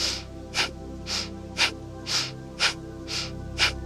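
Forceful kapalabhati breath of fire: eight sharp, rhythmic nasal exhalations, about two per second, each a short hissing puff with quieter passive inhales between them, close and clear with no talking.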